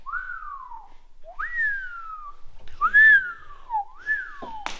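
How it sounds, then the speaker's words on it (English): Several long, rising-then-falling whistles, clear and close, one after another with brief gaps, some overlapping near the end. "Everybody whistle all at once now"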